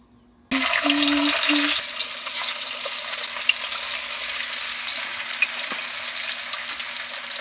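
Eggs and ham frying in a pan give a steady, close sizzle that runs through the clip after a short electronic beeping at the start.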